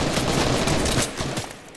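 Sniper rifle gunfire in a snipers-only video game mode, a dense burst of loud cracking shots over about two seconds, then fading.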